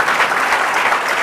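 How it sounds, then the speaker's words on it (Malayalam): Church congregation at a Malayalam Christian service breaks into continuous applause, a full, even patter of many hands clapping loudly from start to finish. "നല്ലൊരു കയ്യടി കൊടുത്തേ,"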